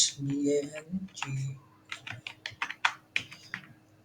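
Keys on a computer keyboard click in a quick, irregular burst of close, crisp taps after a short stretch of speech.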